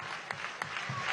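Young audience at a Chamba Juvenil youth celebration with President Maduro clapping, a brief continuous wash of applause with a couple of sharper accents, moderately distant.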